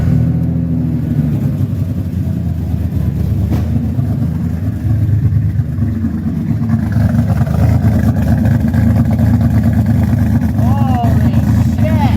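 A 2000 Ford Ranger 3.0L V6 fitted with a new cat-back exhaust cranks and fires up, settling into a loud, deep, rumbling idle close by, with people talking over it.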